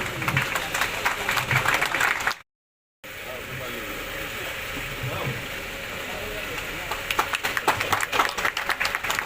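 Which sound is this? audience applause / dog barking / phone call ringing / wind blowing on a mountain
audience applause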